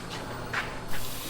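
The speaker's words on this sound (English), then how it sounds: "The last and final quench." Hot metal being quenched in water while fitting brackets for tracks, a steady soft hiss of steam with a couple of brief louder bursts, close by and with no talking.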